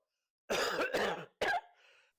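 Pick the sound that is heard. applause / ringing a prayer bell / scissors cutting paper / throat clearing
throat clearing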